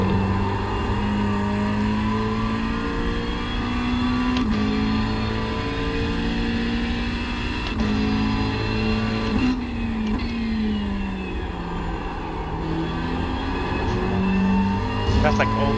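A race car engine runs steadily through a lap of a track, its pitch rising and falling through gear changes and corners, loud and close throughout, with coaching talk from a passenger over it.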